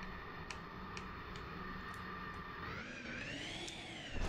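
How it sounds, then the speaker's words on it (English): A turbine jet engine in a car in BeamNG.drive whines steadily with a rising pitch sweep near the end, over a constant low rumble and faint periodic ticks, with no talking. "Oh, it's like a turbine engine. It's basically a jet."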